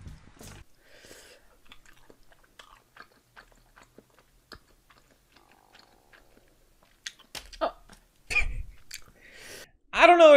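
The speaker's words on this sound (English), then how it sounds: "I can't stand the sound of slurping, smacking, or whatever it is" Quiet close-up chewing with soft wet smacks and crunchy bites, growing louder toward the end, with faint whispery sounds between.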